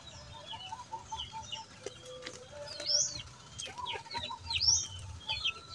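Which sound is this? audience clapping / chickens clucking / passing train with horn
chickens clucking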